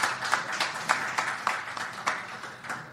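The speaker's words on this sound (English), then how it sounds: "Let's hear a round of applause for these two guys" A small studio audience gives a short round of applause for two hockey players, a handful of sparse, fairly faint claps in loose rhythm.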